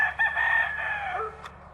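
A rooster crows in a garden among chickens scratching for bugs, a single strained crow carried over soft clucking, fairly close and clear against quiet outdoor background.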